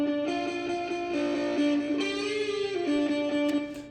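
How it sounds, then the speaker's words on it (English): Lead electric guitar driven through a Proco Rat distortion pedal, with EQ, compression and reverb, plays a sustained melodic line of held and sliding notes, loud and close, with no voices. "So it's obviously sent through the Proco Rat distortion pedal as well."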